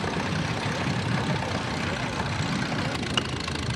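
An antique King's Cross Motor tractor runs steadily in a parade, its engine a continuous low rumble amid broad outdoor noise, with a brief sharper sound near the end.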